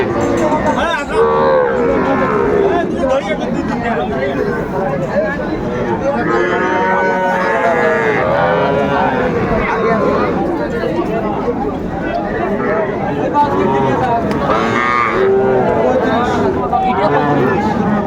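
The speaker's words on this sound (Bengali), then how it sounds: "শাহিওয়াল ষাঁড় বাচ্চা, কোয়ালিটি ফুল বাচ্চাগুলো।" Sahiwal bull calves at a Faridpur cattle market moo repeatedly amid constant crowd chatter and bargaining voices, with several animals calling close by over dense hubbub.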